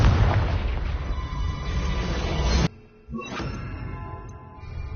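The Confringo fire spell goes off in Hogwarts Legacy with a loud, dense roaring blast, then a sudden drop and a fainter burst with ringing magical tones, all close and without talk.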